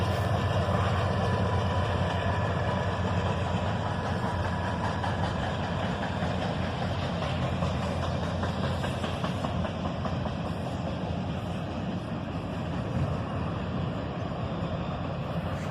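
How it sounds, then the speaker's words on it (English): A Norfolk Southern work train rolls by near a bridge, its heavy locomotive engine a steady, loud, low rumble with a constant mechanical drone and no voices. "we're back by the bridge for a special Norfolk Southern work train"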